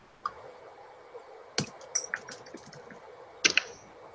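Computer keyboard keys pressed for shortcuts, a few scattered sharp clicks with gaps between, close and fairly quiet, with a quick cluster of taps near the end and no speech.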